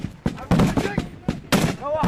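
Loud, sharp bursts of heavy DShK machine gun fire ring out at a front line against Islamic State positions, several irregular bangs in quick succession with voices shouting in between.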